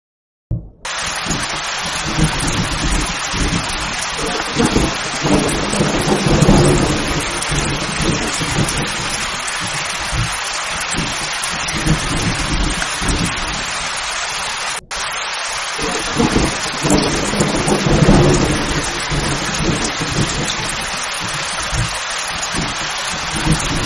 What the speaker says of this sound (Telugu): పెద్ద ఉరుములు మెరుపులతో కూడిన వర్షం